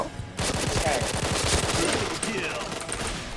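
Rapid automatic fire from a K2C rifle in a shooting video game, a dense close burst of evenly spaced shots lasting about three seconds after a brief quiet start.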